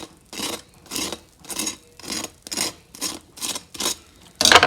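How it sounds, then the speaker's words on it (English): Crispy porchetta skin crunching, with about seven evenly spaced rasping crackles, as if being cut or scraped, close and clear, ending in a louder burst. "The sound of the skin should be this one."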